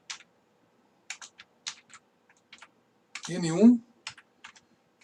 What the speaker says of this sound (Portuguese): E você vai digitar o valor N1.